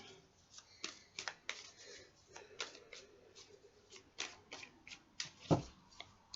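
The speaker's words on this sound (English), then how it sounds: "what I'm going to do is shuffle the cards" Quiet, close-up flicks and soft taps of tarot cards being shuffled, coming in irregular bursts with pauses between them.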